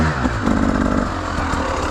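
Enduro motorcycle on a winter ride with some ice about, its engine revving hard on the throttle with a rough, buzzing, pulsing note close by, and no talking.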